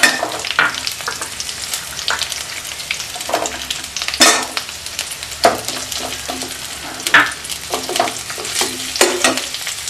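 Sliced onions frying with ginger, garlic, mint and coriander in a pan for coconut milk biryani, a steady close sizzle broken by repeated stirring scrapes and clinks, with no talk.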